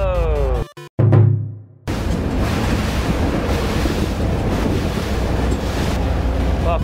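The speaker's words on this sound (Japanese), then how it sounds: "わ、結構波あるんちゃう？" A fishing boat off Ishigaki Island heads out to sea over choppy waves, with loud continuous rushing of wind and water against the hull after a brief burst of engine noise at the start.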